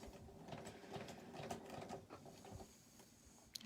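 A sewing machine top stitches fabric zipper tabs with longer stitches near a folded edge, giving a steady close whirring patter that runs the whole time with a few brief clicks and no talk.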